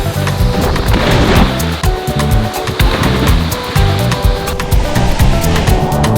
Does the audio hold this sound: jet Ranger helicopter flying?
no